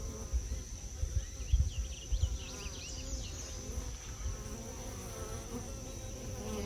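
Honeybee swarm humming steadily inside a bait hive in an apiary yard in July, a continuous droning buzz with a faint background tone and no speech.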